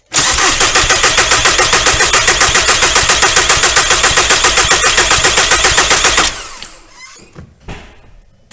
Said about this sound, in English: Okay, I'm going to crank it over now